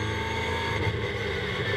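Ginetta GT race cars lap Donington Park, a continuous buzzing engine drone holding steady at a moderate distance with no break and no voices.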